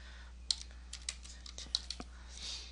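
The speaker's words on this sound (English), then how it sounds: "let's type our date of birth" Quiet keystrokes on a computer keyboard as a date is entered in slideshow software, a handful of sharp, separate clicks spaced irregularly, close but faint over a low steady hum, without speech.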